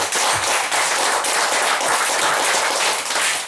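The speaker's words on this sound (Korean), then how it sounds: "하나님께 영광의 박수 올려드립시다" A church congregation at a Sunday morning worship service bursts into loud, dense applause that holds steady from start to finish.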